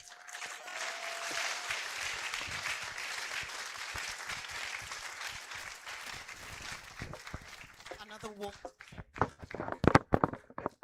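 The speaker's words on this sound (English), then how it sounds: "Another warm round of applause for our speaker." Sustained applause fills a hall at a university distance-education awards ceremony, steady and broad before thinning into a few scattered, sharper claps near the end.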